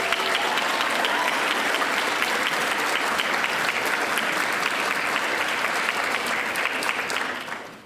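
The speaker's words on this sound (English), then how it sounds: "How about another round of applause?" Sustained clapping from a sizable crowd at a graduate recognition ceremony, loud and even throughout, tapering off right at the end.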